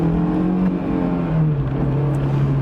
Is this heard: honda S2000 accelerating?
yes